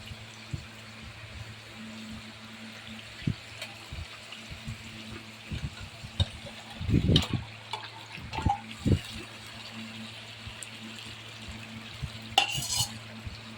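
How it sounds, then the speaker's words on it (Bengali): Spiced masala and fish frying in a pan with steady sizzle, while a utensil stirs and scrapes in short bursts, louder clattering clusters around the middle and end; no talking. "নাড়ি চাড়িয়ে দেবো সামান্য অল্প একটু জল দেবো"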